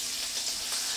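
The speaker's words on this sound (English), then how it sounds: "it's gonna start sizzling and popping" Sausage pieces sizzle and pop in a hot pan, a close, steady, bright frying hiss for a brief moment with no voices.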